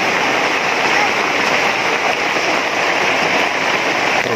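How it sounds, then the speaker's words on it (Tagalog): Heavy rain pouring down in a steady, dense broadband roar that stays loud and constant throughout, with no gaps and no voices on top. "Lakas ng ulan."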